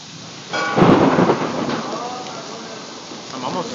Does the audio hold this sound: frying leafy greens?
no